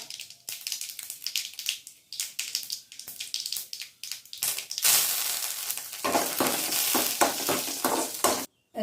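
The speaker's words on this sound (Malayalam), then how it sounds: "കടുക് ചേർത്ത് ഒരു ഉണക്കമുളക് രണ്ടായിട്ട് മുറിച്ചിടുക കറിവേപ്പില ചേർക്കാം" Mustard seeds, a dried chilli split in two and curry leaves go into hot coconut oil: scattered sharp pops and clicks first, then a loud, dense sizzling hiss for the last few seconds.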